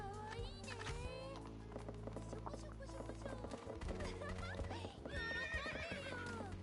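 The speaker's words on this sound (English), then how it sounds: "That's a horse." A video game horse whinnies and neighs in rising, wavering calls over a looping music bed with low sustained tones, with clip-clop hoofbeats mixed in and no talking.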